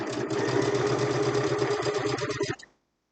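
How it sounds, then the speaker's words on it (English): A Gemini sewing machine runs steadily, stitching a seam on a log cabin quilt block, its close, even mechanical hum continuing for a few seconds before stopping abruptly. "I'm just going to sew until I'm like 1 stitch off that center square"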